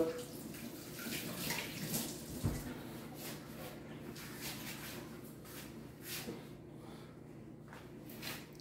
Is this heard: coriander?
no